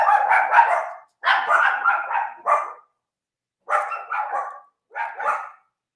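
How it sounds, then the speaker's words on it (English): Two puppies barking indoors in several short bursts of quick, high yapping barks separated by brief pauses, close and fairly loud with no talking over them. "They love to bark every time I talk."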